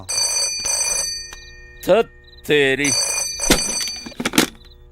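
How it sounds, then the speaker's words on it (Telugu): A telephone rings steadily through a Telugu comedy film scene, its bright repeated bell tone running under voices talking and shouting. "మీ వాడెవడో పొద్దున్న నుంచి ఫోన్ చేస్తున్నాడు."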